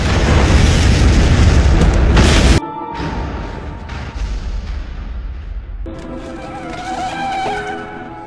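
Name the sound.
explosion in a Chinese drama film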